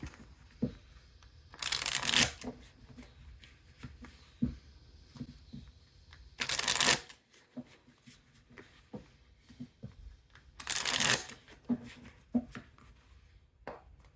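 Tarot cards riffled and shuffled by hand in three separate bursts of dense crinkly rustling, close and moderately loud, with soft card taps and handling noises between them.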